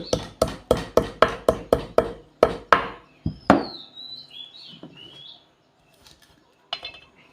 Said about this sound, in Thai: ระหว่างที่รอน้ำเดือดเราไปหั่นผักกันจ้า